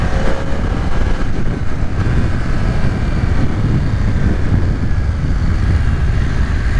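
A 2020 BMW F900R motorcycle engine while riding, a steady low grumble under broadband wind and road roar that stays loud and constant from start to end.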